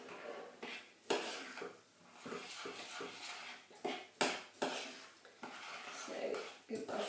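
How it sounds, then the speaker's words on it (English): Oats being stirred into a liquid mixture for flapjack in a bowl, with irregular scraping and knocking of a spoon against the bowl, close and uneven, in bursts of mixing. "So give that a good mix."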